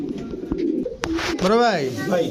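Pigeons coo close by in soft, rolling, throaty calls, with a few background noises and faint voices nearby.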